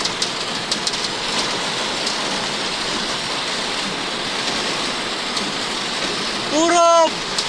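Heavy rain pours onto a waterlogged road in a constant loud roar, and a short vehicle horn blares near the end.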